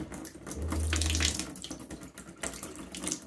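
Water runs steadily from an RV faucet into a sink after dewinterizing, a close, continuous hissing flow with small fluctuations and no talking.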